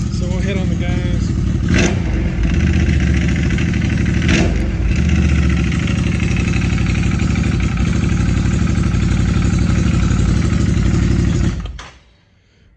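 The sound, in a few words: ATV engine revving in neutral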